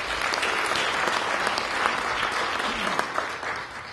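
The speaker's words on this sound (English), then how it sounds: "So give yourselves a round of applause" Steady, dense audience applause fills a volunteer awards ceremony for a county recreation and parks program, close and even throughout with no talking over it.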